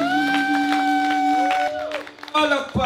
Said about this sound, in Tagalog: Palakpak ako naman.